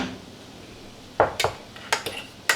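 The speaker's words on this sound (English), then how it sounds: "Give it a quick stir with a fork" Metal fork scraping and clinking against a pot while cooked rice is stirred, a few short sharp scrapes and taps close by, with no talking.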